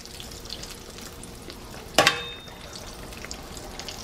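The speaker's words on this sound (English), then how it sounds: "Just put them in the oil, guys." Cinnamon roll dough drops into a little oil in a pan, giving a brief sharp sizzle that fades into a soft steady frying hiss.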